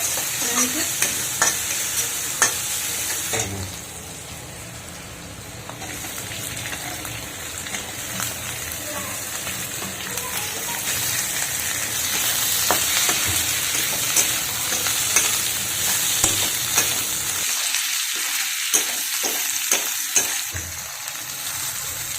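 Capsicum, onion, garlic and ginger fry and get stirred in a pan, a steady sizzle with scraping stir strokes throughout, dropping to brief sparse clatters near the end.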